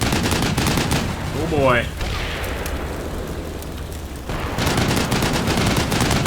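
Armoured vehicles firing guns in a modern Russia–Ukraine war game: a dense burst of cannon and machine-gun fire, a short whistling streak, then a quieter stretch before heavy firing resumes, with someone speaking briefly.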